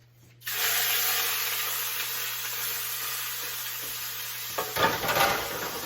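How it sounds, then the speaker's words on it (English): A beef roast hits a hot pan and immediately erupts into a loud, steady sear, a dense hiss that holds for several seconds before a burst of clattering and shifting near the end, close with no voices. "we're gonna go straight into the pan and sear all the sides"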